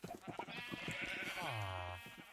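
Sheep in the video game Minecraft give a long, wavering bleat that rises and falls, close and loud, over a busy background of other game noises.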